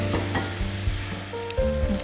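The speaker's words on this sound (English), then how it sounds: "So now I'm gonna add water." Ginger sizzles and fries in a soup pot as water is poured in, a steady loud hiss with a sharper burst of bubbling and spitting near the end, no voices.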